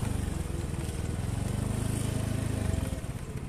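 Motorcycle engine running close by with a steady mid-pitched throb, easing off near the end as the bike is brought to a stop and parked beside an old sugar-factory rail bridge.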